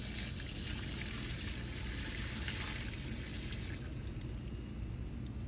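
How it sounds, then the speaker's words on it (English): Leftover water from rendering beeswax, full of debris, is dumped from a container into a composter, a continuous close-up gush and splash that holds steadily for several seconds. "So I dump my bug juice into my composter."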